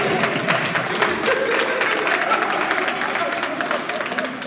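An audience at a school bursars and principals retreat claps steadily together, a dense continuous patter of many hands with voices mixed in beneath it.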